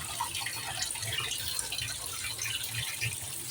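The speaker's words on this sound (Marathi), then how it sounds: "आता 2-3 पाण्याने मी धुवून घेते." Cut ridge gourd being washed in water for a homemade bhaji, a soft continuous splashing and swishing of water close by with small clinks, no talk.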